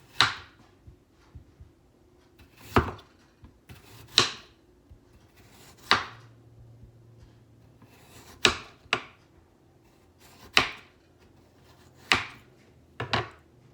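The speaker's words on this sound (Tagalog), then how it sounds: "I finished slicing the potatoes." A knife slicing potatoes on a cutting board for scalloped potatoes, about ten crisp, close cuts at an unhurried, slightly uneven pace of one every second or two, with quiet gaps between and no talking.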